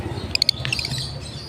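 A lutino red-eye bird, an African cage bird, gives a quick run of bright, high chirps followed by a few softer tweets, close but fairly quiet over a low background hum.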